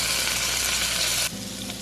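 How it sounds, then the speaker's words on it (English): Margarine, an I Can't Believe It's Not Butter spread, melts and sizzles in a hot skillet for a low-sodium shrimp Alfredo; a steady, loud, close hiss drops abruptly to a softer sizzle near the end, with no talk. "1/4 cup of margarine. Or in my case, I can't believe it's not butter."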